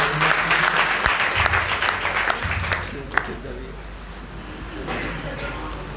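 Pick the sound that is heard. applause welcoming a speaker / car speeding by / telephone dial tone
applause welcoming a speaker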